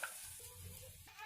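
Chopped cabbage sizzles in hot oil in a pan with onion, ginger and garlic paste, a soft steady crackle with faint stirring.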